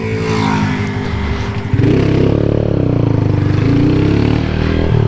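A 150 cc Honda Fan motorcycle fitted with a 15-tooth front sprocket, its engine revving hard and close, rising from a rough idle into a loud, sustained, throbbing roar.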